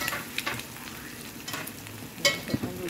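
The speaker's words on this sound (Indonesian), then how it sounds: "Saya goreng terlebih dahulu bahan bahan kering itu tadi." Dry ingredients fry and sizzle in a wok for a Maggi curry soup dish, stirred with scraping and clinking strokes at a steady, close level with no talk.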